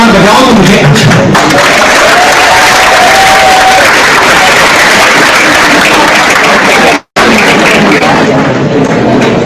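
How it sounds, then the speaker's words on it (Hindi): Loud, sustained applause from a large crowd at a lecture, dense and continuous clapping with a brief cut partway through. "तालियां एक बार बजाओ तो मुझे अच्छा है।"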